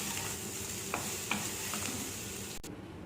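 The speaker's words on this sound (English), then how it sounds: "Now you guys just mix it nicely and it's ready to serve." Schezwan soya chunks with spring onion being stirred in a pan, a soft continuous sizzle with a few light spatula scrapes and clicks, close and quiet, ending in a brief knock.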